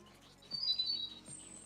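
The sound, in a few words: bird chirping ambience in Dead by Daylight video game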